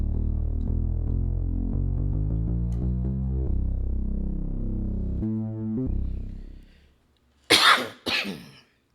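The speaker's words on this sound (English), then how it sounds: "The cough came back the very next day." Two sharp, loud coughs near the end, following a stretch of sustained synth bass tones that fade into brief silence.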